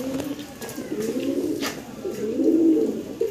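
Pigeons coo softly nearby in a low, throaty rolling pattern, with faint background sounds and a brief voice underneath.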